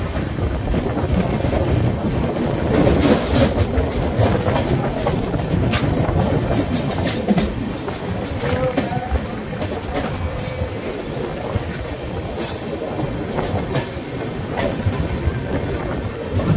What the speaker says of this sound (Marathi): आता आमची रेल्वे जाईल नाही, यांचं फाटक खुलेल बिचारे